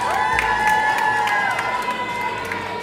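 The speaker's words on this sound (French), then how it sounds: "Voici notre super public qui va applaudir tout ce qu'il peut." A live audience at a studio event cheers and claps while a sustained tone rings through the sound. Excited voices, including some shouting, rise over the clapping at a steady loud level.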